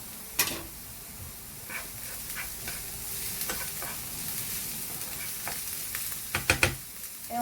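Garlic frying in a pan, a quiet steady sizzle broken by intermittent stirring scrapes and a few sharp utensil clicks against the pan near the end.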